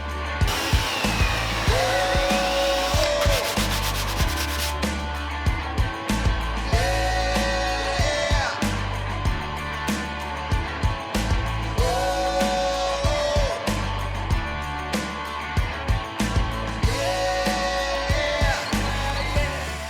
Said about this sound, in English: To do that, I'm going to be using a combination of wood glue and pocket screws.